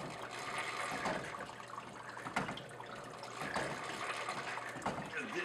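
A one-of-a-kind homemade water clock runs with water, giving soft trickling and splashing with a few louder gurgling pulses at intervals, quiet and close.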